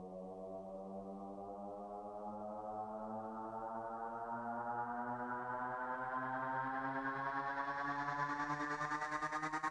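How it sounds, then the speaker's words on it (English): A synthesized vocal sound from Omnisphere, pitch-bent upward by about an octave, rises steadily for the whole stretch in an electronic track. It stays loud and continuous, with a pulsing gated texture that brightens toward the end, and no talking. "I used this vocal sound coming from Omnisphere and I just pitch bend it up like an octave."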